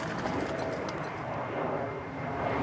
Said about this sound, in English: the dawn chorus this morning are the Branson birds and the British Airways migrating in from the Americas